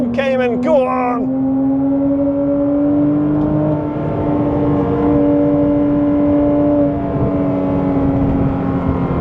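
A Porsche Cayman accelerates hard around the Blyton Park circuit on a private track day, its loud engine drone climbing steadily in pitch across the run, with a brief voice heard at the very start.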